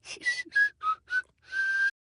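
A sung vocal recording with exaggerated sibilance that comes out as whistling through the teeth: five short whistle-like bursts and one longer sustained one, loud and close, with no other sound around them.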